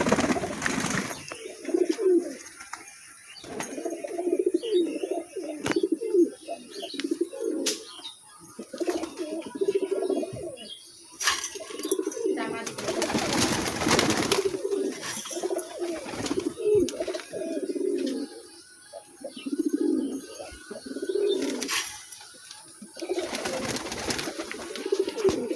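Pigeons cooing in a coop with chicks, with repeated low, rounded coos rising and falling throughout, some close and loud, along with occasional chirps and brief wing flutters.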